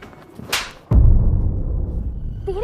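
A sharp slap lands in a heated quarrel between a man and a woman, a single loud crack followed by a sustained low rumble of background music, with a brief whooshing sweep just before it and a rising tonal effect near the end.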